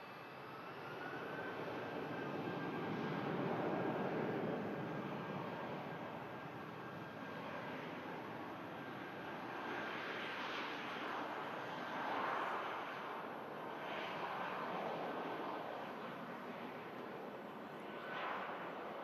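An Airbus A319 flies toward London Heathrow, its jet engines producing a distant, broad roar that swells and eases gently as it passes.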